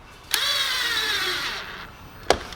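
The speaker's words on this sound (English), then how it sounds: "No clicks on the rattle gun, it should just tighten up nice and easy." A pneumatic rattle gun tightens the throttle body clamp on a Hyundai Getz, one steady whirring burst of about a second and a half, loud and close, with sharp clicks at its start and finish and no other sounds.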